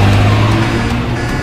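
Car engine rumbling loud and steady as it speeds up to close in behind another car, a low droning hum throughout.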